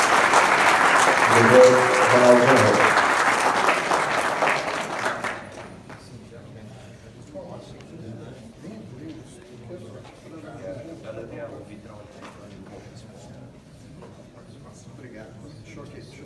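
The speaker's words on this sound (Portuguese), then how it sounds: "Solicitamos a assistência, uma salva de palmas" Seminar audience applause rises loud and full for the first five seconds, then fades out to quiet room murmur and talking.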